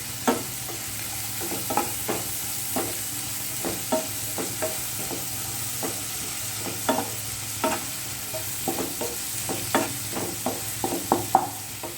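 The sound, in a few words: onions sautéing with salt in a pan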